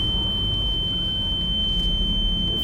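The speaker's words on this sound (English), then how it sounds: "What was that? your fire alarm." House fire alarm emitting a steady, continuous high-pitched tone, fairly faint behind low background rumble, with no talking.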